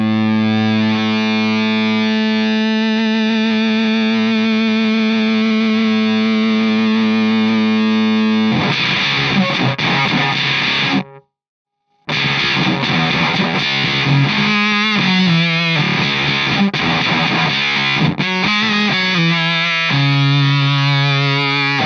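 An electric guitar through a Danelectro French Toast octave distortion fuzz pedal into a combo amp: loud, buzzy octave-doubled fuzz, first sustained chords, then choppy notes and bursts with a brief dead stop midway, alone without talk.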